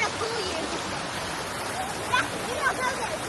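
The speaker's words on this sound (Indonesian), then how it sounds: "Airnya deras karena kemarin hujan ya" A swollen river rushes after recent rain, a steady broadband roar of fast water close by that fills the whole clip, with faint voices or splashes poking through near the end.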